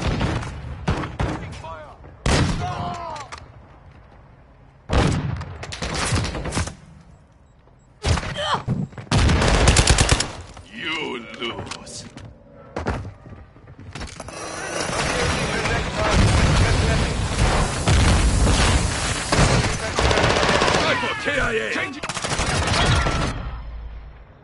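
Bursts of gunfire from Call of Duty Modern Warfare 2, with sporadic shots and short volleys early on giving way to sustained, loud automatic fire, mixed with game voice callouts.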